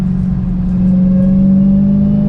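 A 6-speed manual Dodge Challenger SRT Hellcat pulls hard in second gear, its engine a loud, steady, rising low drone heard from inside the cabin, with no talking.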